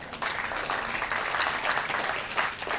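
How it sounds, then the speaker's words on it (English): Applause from a convention audience for a panelist at a business gathering, a dense continuous wash of clapping lasting a few seconds without speech. "Let's give a huge round of applause"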